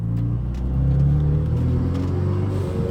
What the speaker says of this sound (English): I just want some of these cars to pass by